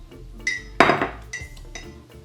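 A fork mixing cookie ingredients in a mug, giving a few close, sharp clinks and scrapes of metal against ceramic, with one louder knock near the start.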